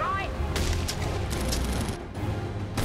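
Gunfire in Batman Arkham Origins: several sharp, loud shots crack in quick bursts with boomy tails amid game combat noise, with people talking over it.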